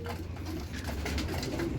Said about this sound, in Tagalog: So pinapakain na natin yung club natin mga ibon, no?